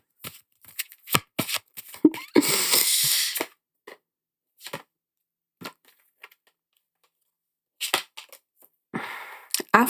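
Tarot cards are shuffled up close in a series of short crisp riffles and flicks, with one longer riffle and scattered taps separated by brief pauses.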